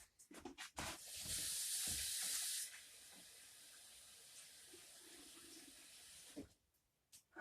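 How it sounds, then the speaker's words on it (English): Tap water runs steadily into a sink as hands are rinsed clean after cutting chicken, a loud hissing gush for about two seconds that then settles into a quieter, continuous flow before stopping. "Let me rinse my hands off so I can shut you off."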